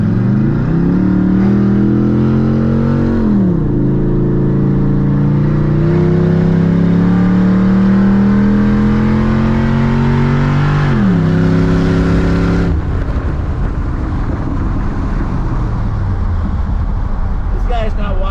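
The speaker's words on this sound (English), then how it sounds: "I'm gonna shift down a gear here." A race car engine roars loudly and continuously through a hairpin turn at the Hockenheim Ring, its pitch climbing steadily and dipping briefly twice as the driver shifts down a gear before revving again.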